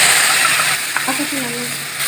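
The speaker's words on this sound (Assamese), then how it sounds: "পেষ্ট কৰা বিলাহীখিনি মই ইয়াতে দি দিম।" Tomato paste hisses and sizzles loudly in a hot pan with whole cumin, cloves and cardamom, a continuous frying crackle with a faint voice underneath.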